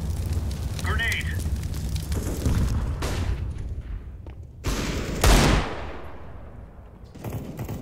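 Explosive bursts and gunfire in a CS:GO match, with a loud broadband blast near the middle followed by another sharp burst, set against continuous game noise and scattered shots.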